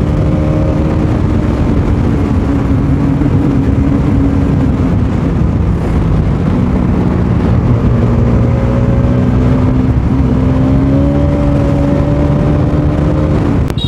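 Continuous loud engine drone of road traffic behind a rider whose brakes have failed, a steady whirring roar with shifting tones as vehicles pass, with no talk.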